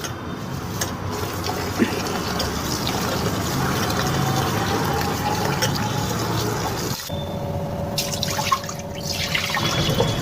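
Raw rice is washed in water for appam batter, with continuous sloshing, swirling and trickling water, close and fairly loud, and a brief pause before the splashing resumes.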